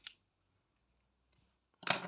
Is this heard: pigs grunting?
no